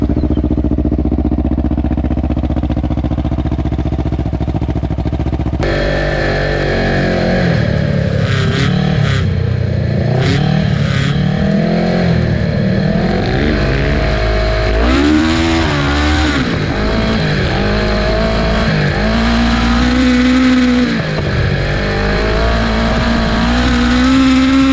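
A Grave Ninja 650 off-road vehicle is started with a key in neutral, and its engine then revs up and down in loud, continuous bursts close by, with no talk over it.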